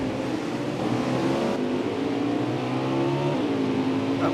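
Winston Cup stock cars racing at Canadian Tire Motorsport Park, several engines roaring and revving together on track, with rising and falling pitches as the cars pass and accelerate, loud and continuous.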